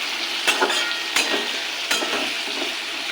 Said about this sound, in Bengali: এবার দেবো আলু। আলুটাকে লাল করে ভেজে নেব।